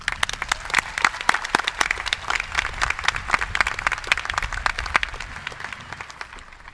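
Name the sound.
audience applause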